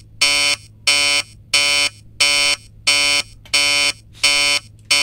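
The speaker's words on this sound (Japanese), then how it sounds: "あ、でもアラームの音が違う。" An alarm in the horror video game Emily Wants to Play Too, sounding as eight evenly spaced loud buzzing blasts, each about half a second long, over a low hum, with no talk.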